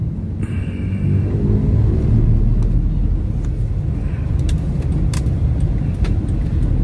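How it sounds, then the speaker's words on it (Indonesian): A car creeping through a dense traffic jam on a road toward Gowa Regency, with a loud, steady low engine and road rumble and a few faint clicks and rattles on top. "macet padat."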